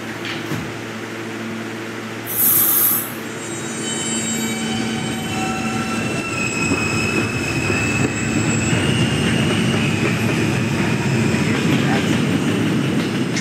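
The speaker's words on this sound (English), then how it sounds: "This is a 26th Street, St. Mark's Avenue bound D train." A D subway train on the 5th Avenue line at Fairview Avenue rumbles and grinds along the rails with squealing wheels, loud and close, a brief hiss near the start and steady rolling noise building throughout.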